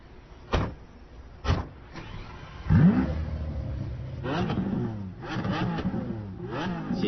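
Car engine revving as a parody supercar sets off, preceded by two sharp clicks or thumps, then rising engine surges and revs that swell and fall in waves over several seconds.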